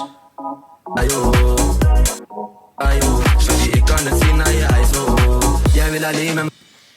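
A music track plays with drums and bass, briefly thinning out near the start before the full mix returns, then cutting away at the end.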